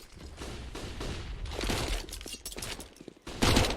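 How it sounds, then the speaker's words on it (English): Flashbangs going off in a Counter-Strike match on the Inferno map: a quick cascade of sharp, bursting blasts mixed with game gunfire and clatter, loud and busy throughout, with a final heavy burst near the end. "Cascade of flashbangs connecting on middle."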